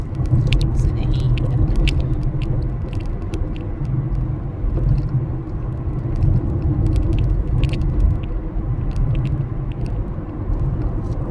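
A car drives on a road trip, giving a steady low road rumble and engine drone for the whole stretch, with faint clicks and rattles from the cabin and no talking.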